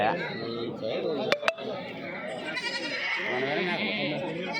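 Goats bleat amid a busy weekly livestock market at Kadiri, where traders haggle over prices; several bleats rise over steady crowd chatter and nearby talking voices.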